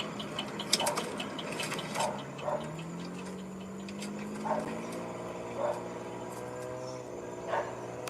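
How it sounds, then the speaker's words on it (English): Dogs barking somewhere away from the listener, several scattered short barks over a quiet background with a faint rising tone. "That fool got my dogs barking."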